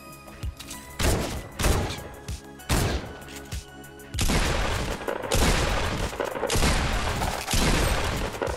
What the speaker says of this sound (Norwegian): Er det virkelig nødvendig med så mange skudd med shotgun